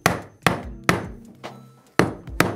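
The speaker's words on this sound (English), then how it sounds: "Take your hammer." Six sharp metallic hammer blows on an electrical conduit strap at an uneven pace, each ringing briefly before the next, struck close by with no talking.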